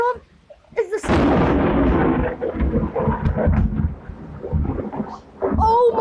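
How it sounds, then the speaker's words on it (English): Thunder from a thunderstorm, a deep rolling rumble that swells suddenly and lingers for several seconds, with a person talking and exclaiming over it. "this is the real thunderstorm"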